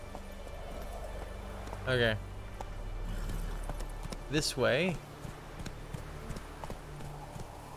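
Horse hoofbeats in The Witcher 3 video game, a light clip-clop running through a busy game soundscape while a voice speaks briefly and a short whinny-like call rises near the middle.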